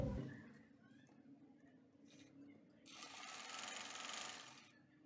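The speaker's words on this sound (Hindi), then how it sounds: "अब यहाँ पट्टी की साइड पे भी सिलाई लगा लेंगे।" Sewing machine stitching along the side of a fabric strip for a designer baby top, its fast whirring run starting partway through after quieter handling noises, close and steady for a couple of seconds.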